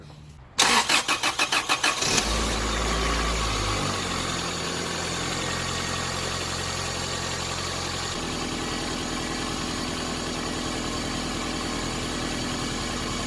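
A 1996 Toyota Corolla engine cranks briefly with rapid starter pulses, catches and roars up loud, then settles into a steady close idle that changes pitch slightly midway, with no talk.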